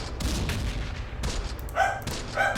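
Battle gunfire in the WWII tactics game Close Combat, set around Kasserine Pass: repeated shot bursts and low booms crackle through a dense, continuous combat din, with sharper volleys near the end.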